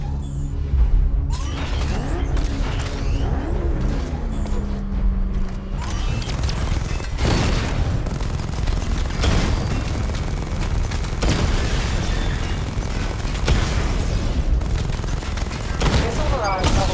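Batman Arkham Knight weapon fire tears through targets in a dense, continuous barrage of booms and explosive impacts that stays loud and thick throughout, with a game voice speaking in places.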